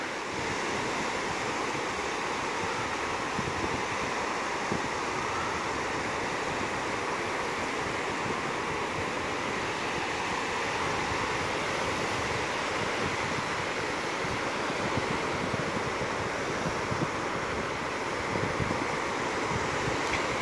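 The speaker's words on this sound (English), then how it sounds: "There is quite a breeze blowing." Steady wind and breeze roar on a beach at night, with rolling surf washing underneath, loud and continuous throughout with gusts buffeting the microphone.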